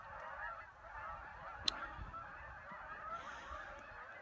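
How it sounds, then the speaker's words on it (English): A large flock of a few hundred geese lifting off from a field across a road, honking continuously from a distance, faint but steady, with no voices. "A few hundred geese or better just took off from that field across the road."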